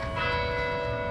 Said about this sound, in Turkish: Kilise çanları da çaldı.